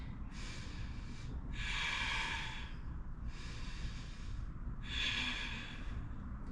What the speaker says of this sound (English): One more breath in, and exhale